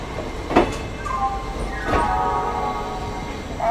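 Inside an old ICF third AC train coach, a steady rumble of the running train fills the clip, with a louder clank near the start and another around the middle, and no talk.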